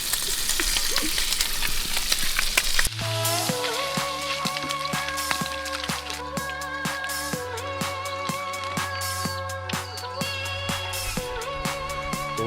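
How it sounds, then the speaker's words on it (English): Breakfast frying in a pan at a bush campsite, a steady close sizzle with stirring and scraping sounds and rhythmic clinks throughout, no talking. "Ash is cooking the brekkie."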